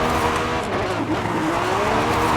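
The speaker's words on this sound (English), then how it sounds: "This is a bit of drifting, well, my attempt at drifting, which is quite fun to do." A Lamborghini Revuelto drifts in a racing video game, a loud sustained engine roar blended with rising and falling tire squeal as the car slides, with no voices over it.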